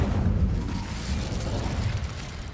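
The Incendio fire spell cast in the Hogwarts Legacy game, heard as a short, loud burst of whooshing flame with a crackling, rumbling tail that fades over about two seconds.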